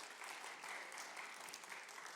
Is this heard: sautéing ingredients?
no